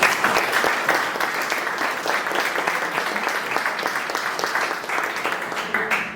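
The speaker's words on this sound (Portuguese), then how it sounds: "Uma salva de palmas." Sustained applause from a crowd at a Brazilian community gathering of Italian and Trentino descendants in Santa Catarina, steady dense clapping filling the whole stretch at fairly even loudness, with no voices over it.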